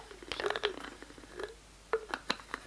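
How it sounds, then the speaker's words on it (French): Soft, close lid noises for ASMR, made up of light taps, scrapes and small clicks in an irregular rhythm. The sounds are quiet and intimate, with brief louder clacks near the end. "des bruits de couvercle."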